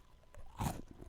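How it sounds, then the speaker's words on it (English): A single crisp crunch of someone biting into a Bourbon biscuit, close and fairly loud, with a few softer chewing crackles trailing after it. "It's Guess the Biscuit that Terry's eating"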